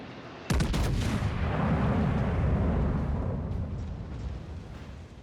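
Heavy 18-inch battleship main guns fire in a naval warship game, one sudden loud blast with a sharp crack followed by a long rumbling boom that slowly fades over several seconds.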